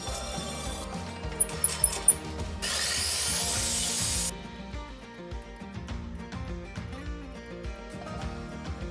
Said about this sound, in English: using a table saw to route out some tracks